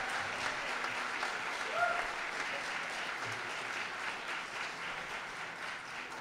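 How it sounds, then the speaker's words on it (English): Audience applause at a school jazz night, a soft, steady spread of clapping from a crowd heard at a distance, holding an even level the whole way, with one brief tonal sound partway through. "So just want to give him a round of applause."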